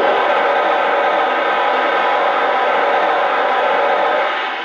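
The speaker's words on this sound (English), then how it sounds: "And here's the steam blowdown effect." Lionel Santa Fe 2-10-10-2 model steam locomotive blowdown effect: a loud, steady hiss of released steam held for several seconds, then easing slightly at the end, with no talk over it.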